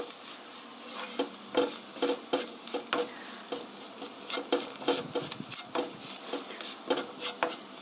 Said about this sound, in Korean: 이렇게 걸쭉하게 노릇노릇하게 잘 볶아졌으면 여기에